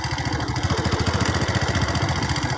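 A small motorcycle engine idles close by on a bamboo forest road, its low pulsing chug steady and even throughout, with no voices.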